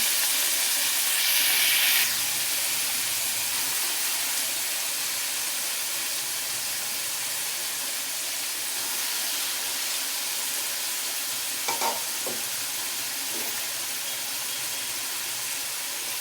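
Carrots, beans, potatoes, tomatoes and herbs frying in oil in a pan for mealmaker pulao, giving a steady, even hiss close by, with a brief louder sizzle near the start and a few faint clinks later. No one speaks.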